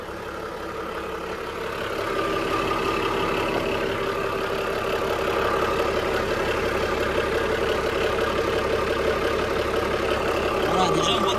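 A Volvo Penta TAMD marine diesel engine idles with a steady, low chugging drone that grows a little louder after a couple of seconds and holds constant.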